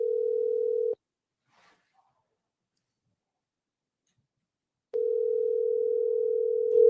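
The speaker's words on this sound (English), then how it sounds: "I'm not sure whose phone is ringing." A steady electronic telephone tone sounds during a remote court hearing, a one-second burst, a few seconds of silence, then a longer continuous tone, loud and alone.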